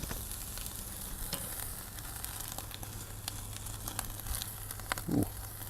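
Thick cut pork chops on a grill give a faint, steady sizzle, with soft crackles and a brief low thud near the end, with no talking.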